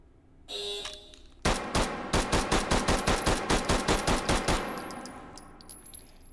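Rapid gunshots from a rifle shooting targets in the VR game H3VR: a single shot, then a fast string of about fifteen loud, evenly spaced cracks that stop abruptly, followed by faint mechanical clicks.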